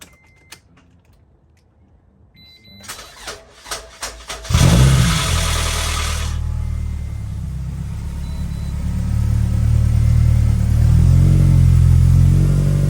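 A Scion tC engine cranks with a few sputtering catches, then starts with a loud roar and settles into a steady, close idle that swells slightly later.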